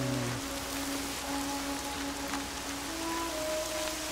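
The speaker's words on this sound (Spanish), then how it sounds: "La lluvia suena como si fuera un redoble de tambor." Rain in the video game Horizon Zero Dawn patters steadily on surfaces like a soft drumroll, a quiet, even hiss laid over faint tonal game ambience with no one talking.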